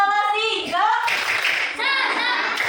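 Third-grade children in an Indonesian classroom doing the rhythmic 'tepuk semangat' spirit clap, a burst of group claps in the middle between loud chanted young voices.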